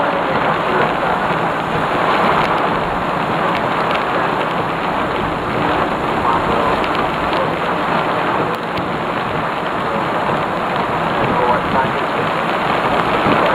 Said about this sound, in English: This freaking storm has got so much frickin' energy to it.